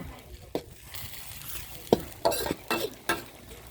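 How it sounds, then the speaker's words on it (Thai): Bottle gourd soup bubbles in a pot while a utensil stirs it, giving a few distinct scraping, clinking strokes over a low simmer, close and moderately loud. "เดือดเดือดเดือดไปเรื่อย ๆอ่า"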